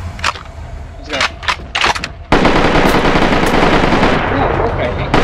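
Gunfire in the video game Deathgarden: Bloodharvest: a few sharp separate shots at first, then a loud sustained burst of rapid automatic fire that carries on to the end.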